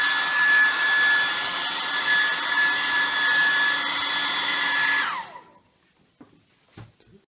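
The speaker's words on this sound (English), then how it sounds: "now we'll use the dryer to" A hair dryer blows steadily with a high whine for about five seconds, then switches off and winds down, leaving quiet with a few soft knocks.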